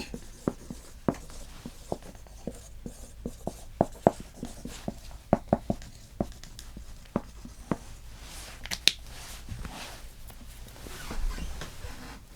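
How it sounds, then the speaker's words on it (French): A pen scratches and taps across paper in short irregular strokes, jotting a list of basketball All-Star substitutes, close and alone with no talking. "Donc j'écris en remplaçant."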